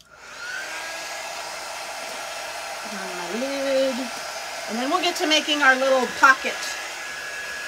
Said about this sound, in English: let me hit that with the dryer one more time